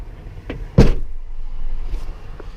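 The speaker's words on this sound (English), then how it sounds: "I'm going to shut my door." A truck cab door slams shut once with a single solid thud, close by inside a vehicle set up for an air brake test, followed by a low idling rumble.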